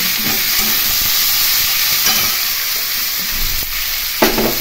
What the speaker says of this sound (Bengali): চাল কুমড়োগুলো তেলের মধ্যে দিয়ে একটু ভাজা ভাজা